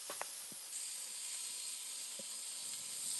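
Andouille sausage sizzles over charcoal in a faint, steady hiss, broken by a few soft pops and crackles and heard from nearby.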